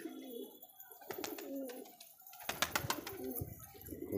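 Several pigeons coo in low, rolling phrases that repeat throughout, close by and fairly loud, with scattered rustling and flutter-like bursts around them; no one speaks.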